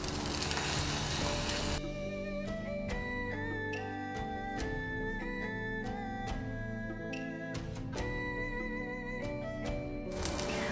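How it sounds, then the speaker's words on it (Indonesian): Eggs being scrambled and fried in hot oil for a chayote dish give a steady hissing sizzle, clear at the start and end and mostly covered by tuneful music in between. "Goreng telur sampai matang dahulu."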